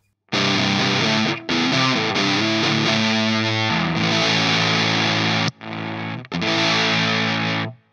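Electric guitar played through a boutique English-built fuzz pedal set to a starved, dying-battery fuzz tone: loud, sputtering, gated distorted chords and notes with abrupt cutoffs and brief gaps, played alone without talk.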